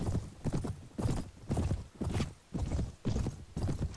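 Hooves pound in a fast, regular galloping rhythm in the game Mount & Blade, about two heavy beats per second, close and fairly loud with no other sounds.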